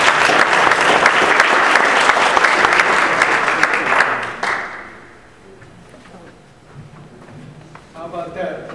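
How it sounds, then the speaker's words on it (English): Loud audience applause at a community health event, dense clapping filling the room for about four seconds, then fading to scattered claps with a voice speaking under the tail. "a big round of applause for them"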